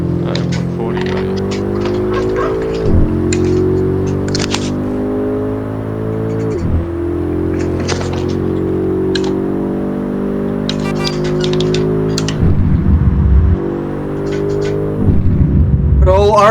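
Simulated BMW M5 F90 Competition engine in Shutoko Revival Project on a night highway cruise, droning steadily with harmonic engine tones that dip and surge at several gear shifts, loud and continuous, with no talk over it.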